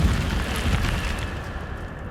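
An Incendio fire spell cast in Hogwarts Legacy, a dense roaring burst of flame with a rumbling low whoosh that holds steady and gradually thins out over about two seconds, loud and close.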